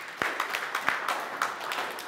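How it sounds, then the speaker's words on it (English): Scattered clapping from a small group at a student debate competition, a few claps standing out sharply over a soft, continuous patter. "Please let us clap for him."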